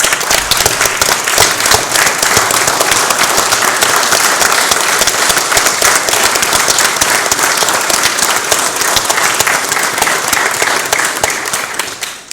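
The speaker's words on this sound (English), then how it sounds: "I think we need to give all these folks a standing round of applause" A community crowd at a county commissioners' court meeting gives a standing round of applause, dense loud clapping sustained evenly for about twelve seconds before tapering at the very end, with no voices standing out.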